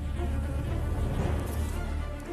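A swarm of Japanese honeybees buzzing close by, forming a dense, continuous drone with steady loudness throughout.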